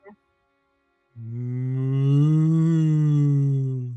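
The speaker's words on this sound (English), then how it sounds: "Oh my, it's a cow!" A cow gives a single long, low moo lasting about three seconds, close and loud, after a brief click and a moment of silence.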